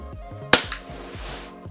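A WE Glock 19X airsoft pistol fires a single sharp, loud shot during a chronograph velocity test, a crisp snap that decays quickly over a faint background of low-frequency noise.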